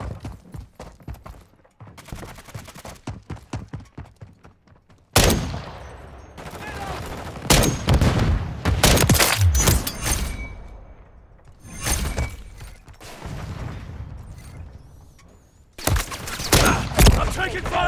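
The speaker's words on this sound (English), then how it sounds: "I'm taking fire!" Heavy gunfire in a Call of Duty match: loud bursts of automatic rifle fire and sharp single shots come in dense clusters, with short quiet gaps between volleys and some clattering impacts.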